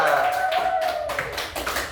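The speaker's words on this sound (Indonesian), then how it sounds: "Tepuk tangan semua." Children in a primary school classroom clap together in a dense, steady burst that fills the whole moment, with a teacher's voice tone lingering faintly underneath.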